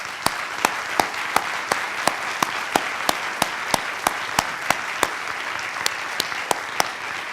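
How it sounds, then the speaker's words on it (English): A university lecture audience stands and gives loud applause, a thick continuous clatter of hands with crisp, regularly spaced claps from someone nearby cutting through. "we really want to give you a loud round of applause"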